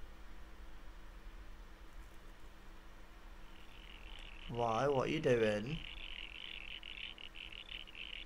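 A frog in the video game Jazzpunk gives one burst of rapid, throaty croaks lasting about a second, standing out from a quiet hiss, while a person speaks briefly.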